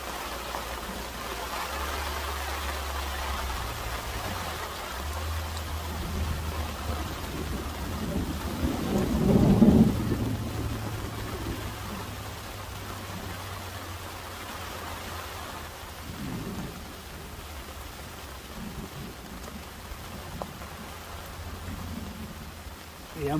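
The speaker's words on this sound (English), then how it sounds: "that water, it's definitely starting to rain now" Heavy rain pours steadily around a car at a camp site during a severe storm, with a low rolling rumble of thunder swelling midway and fading, under a constant wash of rainfall.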